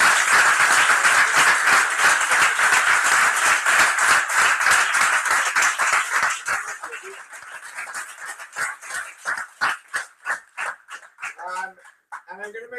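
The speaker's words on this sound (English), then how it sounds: "giving these guys a big round of applause" Audience applause at the Bergen Startup Weekend final pitch event, a dense burst of clapping from a crowd that thins into scattered individual claps toward the end.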